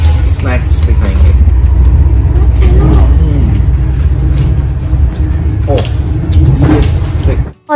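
Steady, loud rumble inside a moving train travelling through Switzerland toward Zurich, a continuous low drone of wheels and carriage with faint, indistinct voices beneath it.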